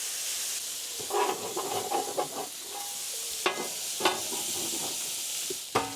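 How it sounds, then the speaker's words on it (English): Water hits a hot griddle cooking Brussels sprouts in a little oil, giving a steady loud sizzle and steam hiss with scattered crackles and a few sharp bursts. "Now we're going to do some water to steam it."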